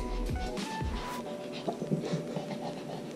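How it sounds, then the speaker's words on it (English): Dog panting and breathing close by indoors, a steady raspy huffing with some rubbing noises. "And Mordecai, everyone can hear you breathing."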